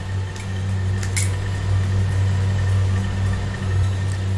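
A mixer grinder grinds toor dal with idli podi spices, giving a steady, loud motor whir with a low hum that runs unbroken for the whole stretch, with no talking.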